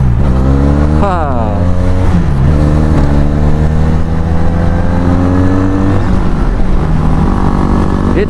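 Loud, close Benelli Leoncino 500 motorcycle with an aftermarket exhaust, rumbling at idle, then blipped in several quick throttle revs that rise and drop back, with a throaty, superbike-like tone.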